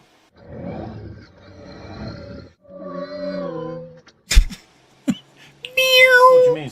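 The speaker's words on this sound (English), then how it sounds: "It's a kitty cat meowing." Several drawn-out, wavering cat meows, the last one rising and falling loudly, with short bursts of voices and clicks between them.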